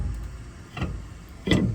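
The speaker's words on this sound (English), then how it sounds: "Little sand drum disc on the Dremel." A Dremel with a small sanding drum cleans rust from a Ram 1500 rear hub, giving two brief whirring bursts of grinding a moment apart.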